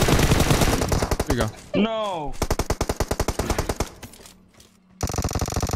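Rapid automatic gunfire from a video game, loud bursts of evenly spaced shots with brief pauses, a short buzzing effect in between, and players talking over it.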